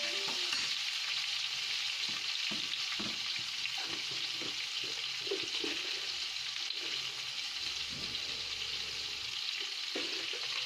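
Onions sautéing in a pan for chicken biryani, a dense continuous sizzle with soft stirring scrapes and spatula knocks, close and steady with no talking.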